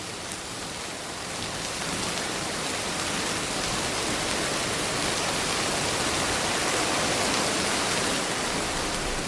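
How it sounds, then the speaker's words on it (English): Steady, dense rain falls continuously, a broad hiss of drops hitting surfaces with no pauses or voices. "I made sure to cover the rain that you can hear now"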